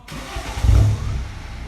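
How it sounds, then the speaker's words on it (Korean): A BMW 120d diesel with a tuned exhaust starts up, giving a short low, deep rumbling burst that swells to a loud peak and then settles into a steady idle, close by. "디젤 차인데도 시동 킬 때 부릉하면서 중저음 소리가 살짝 들리고요"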